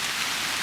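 Heavy rain drenching a pine forest during a lightning storm, a dense steady hiss of drops close by with no pauses.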